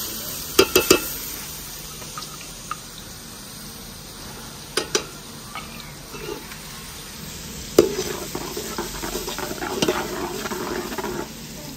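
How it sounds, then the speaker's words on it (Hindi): Ginger garlic paste spitting in hot ghee in a village kitchen, a moderate sizzle punctuated by sharp clinks and scrapes of a spoon against the pot, with a faint high whine underneath. "अदरक लहसुन का पेस्ट डाला जा रहा है।"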